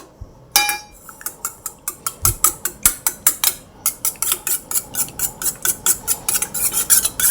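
Spoon beating eggs in a bowl for French toast, a fast steady run of bright metallic clinks and taps against the side, close and continuous with no talking.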